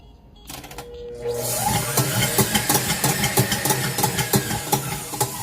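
A KitchenAid Pro 600 6-quart bowl-lift stand mixer rated at 575 watts starts up after a moment of quiet, then runs with a loud, steady motor whir and a rhythmic mechanical pulsing, heard close and with no voices.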